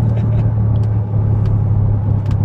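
Chevrolet Corvette Z06 C7 engine and exhaust giving a deep, steady low rumble, loud and continuous from up close, with no talking over it.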